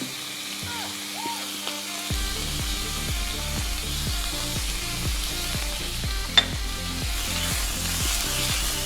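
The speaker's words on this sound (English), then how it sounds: "Adding my beef strips. Season with barbecue spice." Beef strips sizzle and hiss steadily in a hot pan as barbecue spice goes on, with a clear rhythm of stirring scrapes building over the frying for a stir fry wrap.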